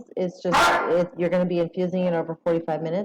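A pet dog lets out a loud bark behind a person who speaks steadily the whole time, with the bark rising sharply over the voice.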